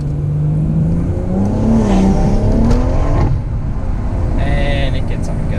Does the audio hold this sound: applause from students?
no